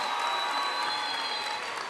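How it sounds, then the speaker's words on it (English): A crowd at a high school parade and pep rally applauds student athletes, a dense, continuous wash of clapping heard from a moderate distance with a faint hum of voices beneath. "Let's give them young men a round of applause."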